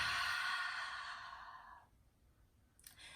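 Someone exhales slowly and audibly through the mouth as part of a breathing technique for easing anxiety, one long breathy rush that fades, followed by a brief soft breath near the end.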